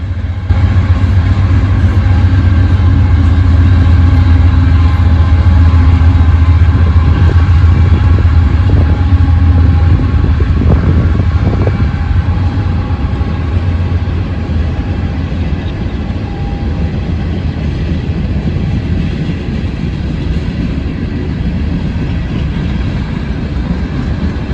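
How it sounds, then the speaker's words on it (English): Southbound loaded Norfolk Southern coal train on the Sandusky District in central Ohio, with mid-train DPU locomotives, rolls past steadily. A loud, continuous low rumble and grind of locomotives and laden cars runs throughout with no voices. "a southbound loaded coal train on the Norfolk Southern Sandusky District"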